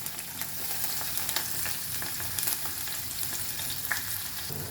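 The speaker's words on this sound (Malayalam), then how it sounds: "വെളിച്ചെണ്ണ ചൂടായിട്ടുണ്ട് എണ്ണ അപ്പോൾ ഒരു ഈ ഉള്ളി ഇട്ട് കൊടുക്കാം ഉള്ളിയും പച്ചമുളകും" Sliced onion and green chilies sizzle steadily in hot coconut oil in a pan, a close, even frying hiss with occasional soft stirring clicks and no talk.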